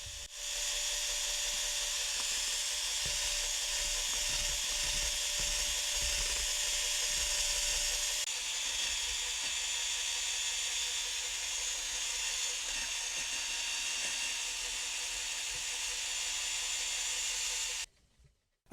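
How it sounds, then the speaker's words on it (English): Corded drill spinning a buffing pad at low speed against the inside of a cloudy plastic Dyson vacuum bin, a steady whirring hiss with a constant tone that runs unbroken for nearly the whole stretch before stopping abruptly. "start polishing the inside of the bin. Be sure to use a low RPM on your drill"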